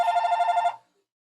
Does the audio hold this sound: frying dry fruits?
no